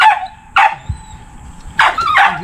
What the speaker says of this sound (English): You hear Pepper barking